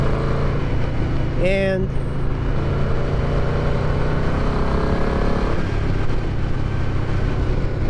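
A restored Yamaha Vmax muscle bike cruising in fifth gear, its steady engine drone and wind roar running loud and continuous close by, with a rider's voice breaking in briefly near the start.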